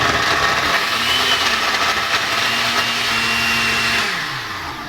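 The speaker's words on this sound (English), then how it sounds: "we're gonna blend that up until it's nice and thick and icy" A blender crushes ice into a frozen hot chocolate with a loud, steady motor roar and gritty grinding, its pitch shifting slightly as the mixture thickens, then dropping off at the end.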